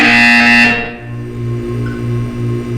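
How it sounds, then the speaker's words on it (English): An electronic buzzer in Portal 2 sounds loudly, starting with a bright tone and then pulsing in several short, evenly spaced low buzzes. "You will hear a buzzer. When you hear the buzzer, look up at the ceiling."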